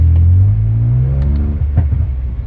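Uncle's car engine revs up in a rising, rumbling whine, then settles into an uneven idle with a few small knocks, close and fairly loud.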